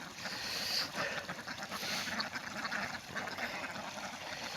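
Ducks bathe in cold weather at a village farm in Shibalaya, Manikganj: water splashes and churns steadily while faint quacks rise now and then over the running, sloshing background.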